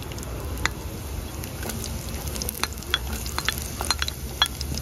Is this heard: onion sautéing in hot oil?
yes